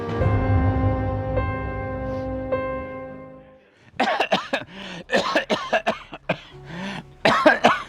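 After a sustained tonal hum, a person coughs repeatedly in harsh, close bursts, a rough fit of several coughs in a row.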